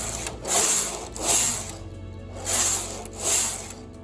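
A knitting machine carriage sweeps back and forth across the needle bed knitting a few rows, giving four rasping, whooshing passes at a steady rhythm with short quiet gaps between them, close and moderately loud.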